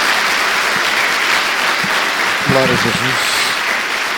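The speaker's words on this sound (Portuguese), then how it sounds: "Dê uma salva de palmas ao Senhor." A church congregation gives a steady, loud round of applause that fills the whole stretch, while a voice calls out briefly over the clapping midway through.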